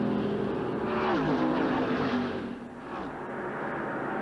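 Stock race cars roar past along the back straightaway at Michigan International Speedway, a loud engine whine sweeping by in the first half before fading to a steady distant drone.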